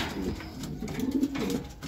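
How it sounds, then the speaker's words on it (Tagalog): A racing pigeon coos softly after arriving at its loft, a brief low warbling call heard close by. "ito yung ibon natin, si Alulod, first bird from Tanay Rizal."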